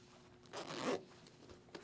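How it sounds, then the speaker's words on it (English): Zipper on the rear exhaust vent of an Icon Neo Daytona 2 motorcycle jacket pulled once in a quick close rasping run, followed by a couple of faint clicks and rubs. "These good looking zips back here for the exhaust vents on the back."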